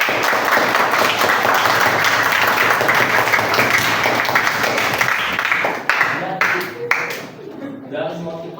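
Applause at a university teaching-practice gathering, dense and steady for several seconds before thinning out near the end, with a voice beginning to speak over it as the clapping fades.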